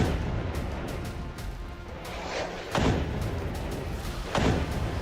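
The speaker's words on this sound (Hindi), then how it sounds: "लेकिन दूसरे रॉकेट ने धमाका कर दिया।" Hamas rocket exploding in war news footage, heard as two heavy booming impacts over a constant rumbling background, each blast loud and sharp against the steady noise.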